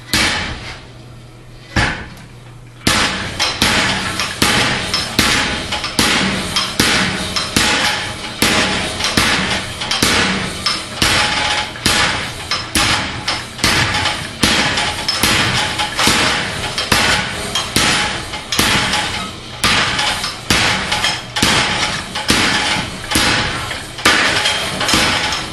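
A treadle hammer drawing out and fullering a steel bar, delivering rapid, steady rhythmic blows with sharp metallic clanks, loud and close, after a brief pause near the start.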